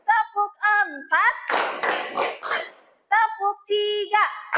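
Classroom of children clapping in time to a teacher's counted call, sharp bursts of group claps alternating with an adult voice chanting the count.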